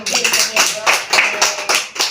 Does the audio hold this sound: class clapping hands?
yes